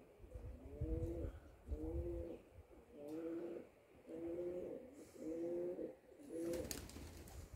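A racing pigeon coos over and over, six regular rolling phrases about a second apart, close and clear, followed by a brief noisy rustle at the end.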